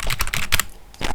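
Quick bursts of keystrokes on a computer keyboard, membrane or mechanical, clatter close and loud in a few rapid clusters with a short pause before the last.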